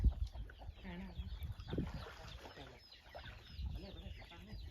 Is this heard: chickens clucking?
yes